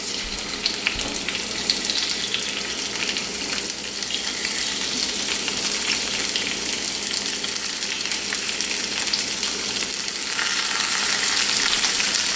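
Shrimp and garlic sizzle loudly in a frying pan for garlic shrimp scampi, a dense, continuous crackle that swells slightly toward the end, with no voices.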